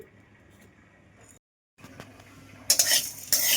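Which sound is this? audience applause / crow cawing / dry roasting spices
dry roasting spices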